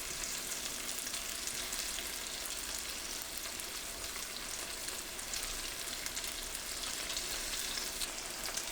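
Small food pieces frying in a pan make a faint, even hissing sizzle that holds steady without pauses for several seconds.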